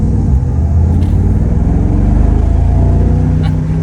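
A 470-horsepower Mercedes-AMG SL 55 grand tourer accelerates in comfort mode, its engine a loud, steady, deep rumble that holds strong throughout a short pull.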